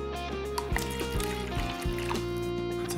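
Water trickles and pours into a cup while coffee is made with caramel flavoring, cold milk and ice-cold water, a steady liquid stream with small splashes and drips, close and fairly even over a faint hum.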